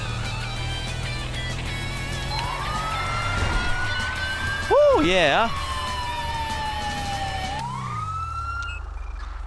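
A police car siren in GTA V rises and falls in a long, loud wail close by, sounding over steady engine and street noise while someone speaks briefly.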